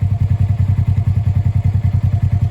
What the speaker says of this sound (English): So here we have machine's been running for a half hour, maybe a little longer.